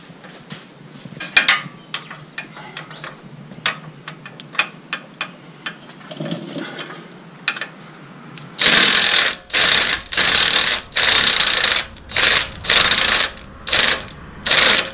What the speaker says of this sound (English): Now I'm going to loosen the axle side track bar bolt.